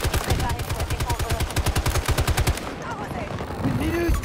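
Rapid automatic gunfire in Battlefield 2042 rattles in a steady fast burst for about two and a half seconds, then stops, with faint game voices and ambience around it.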